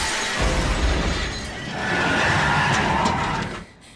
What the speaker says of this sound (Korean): 결국 전복된 지하철